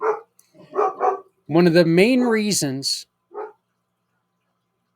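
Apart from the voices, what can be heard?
dog barking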